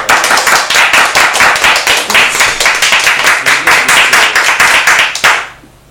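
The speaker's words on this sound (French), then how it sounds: "on peut l'applaudir" An audience at an evening talk-workshop applauds a guest, steady dense clapping from many hands for about five seconds before it fades out quickly.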